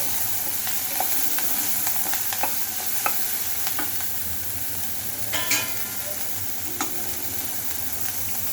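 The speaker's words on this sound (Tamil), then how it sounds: "சும்மா ஒரு தாளிப்பு தான் இது லைட்டாக வதக்கிக்கிறோம்" Onions for a tempering are lightly sautéed in a pan for kara paniyaram, giving a continuous soft sizzle and hiss with repeated scraping stirs and occasional spoon taps against the pan, close and without speech.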